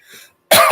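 A single loud, sharp cough close to the microphone comes after a faint breathy sound and brief silence, heard alone with no talk.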